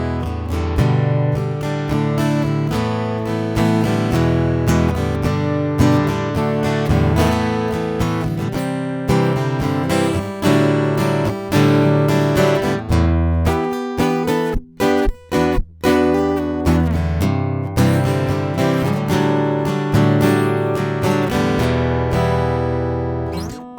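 A clean amplified acoustic guitar with no effects plays a full, steady stream of strummed chords and picked notes, close and fairly loud. A brief choppy break comes midway. No talking.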